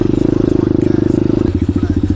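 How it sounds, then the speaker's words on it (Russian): A small scooter engine idles and revs with a rapid, loud putter, then drops to a slower chugging rhythm, close by in a night forest with no talk. "Спустя 2 года мы кое-как завели скутер."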